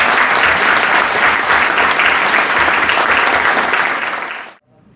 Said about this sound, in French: donc on les applaudit encore